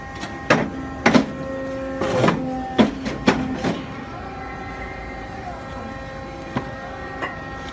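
A Horizon APC 610 paper cutter cuts and pushes out a stack of paper stock, giving several sharp mechanical clunks and brief motor whirs at irregular intervals over a steady machine hum, close and fairly loud.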